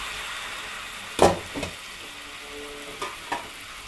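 Chicken goes into spices frying in a pan, giving a steady sizzle punctuated by a few distinct thuds and scraping stirs.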